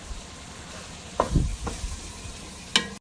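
Italian sausage and ground meat browning in a pan for lasagna, with a few short scraping stirs and tosses over a soft, steady background sizzle; close and moderately loud, no talking.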